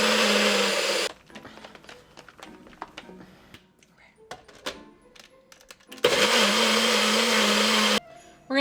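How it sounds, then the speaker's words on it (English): A blender whirs protein powder with almond milk in two loud, steady bursts, separated by a quieter stretch of clinks and handling noise, with a brief restart at the end. "We are going to blend this for like 30 seconds or so until it's fully combined"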